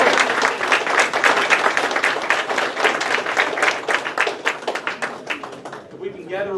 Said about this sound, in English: Big round of applause, please, for the 9th.